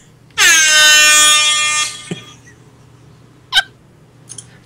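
A single loud, sustained air horn blast lasting about a second and a half, followed by a couple of short faint squeaks.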